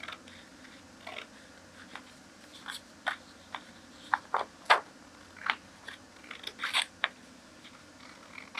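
Scissors snip through paper while trimming the excess from a closed waist dart on a sewing pattern, a string of short, crisp cuts at an uneven pace, close and fairly quiet with no talking.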